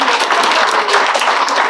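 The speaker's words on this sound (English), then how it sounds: "I think you deserve a round of applause." Wedding guests break into dense, lively applause for the couple after their vows. Close, continuous clapping fills the whole moment with no pause.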